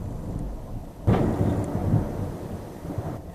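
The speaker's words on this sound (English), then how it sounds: "Wow, that would be thunder." Thunder rolling in with steady rain, a loud low rumble that swells suddenly and lingers for a couple of seconds over a constant wash of rainfall, with no voices.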